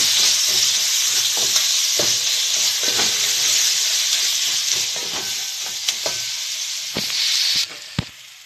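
Peeled tomatoes added to spices frying in a pot, a loud steady sizzle and hiss close up with scattered stirring clicks and scrapes, easing slightly toward the end with no talk.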